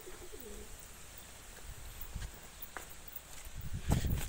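Pigeons on a rooftop terrace coo softly and shuffle about, with scattered faint wing and foot movements and a brief louder flurry of motion near the end, no talking.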